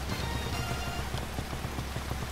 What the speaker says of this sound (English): Look, it's raining, so it looks even prettier.